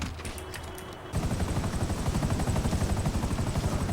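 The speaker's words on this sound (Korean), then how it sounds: "헬기 이륙 이륙은 되게 쉽죠." A Buzzard helicopter in the video game GTA 5 spins up for takeoff, its rapid, steady rotor chop starting abruptly and staying loud and close.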